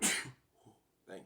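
A short, sharp sneeze bursts out at the start, followed by quiet murmuring and a brief spoken reply.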